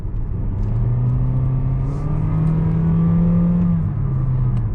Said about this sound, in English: the CVT transmission makes more of a racket in this car than it does in my 10th generation Honda Civic